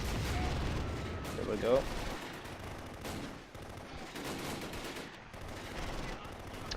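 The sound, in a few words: Panzer III and troops firing in Close Combat, a video game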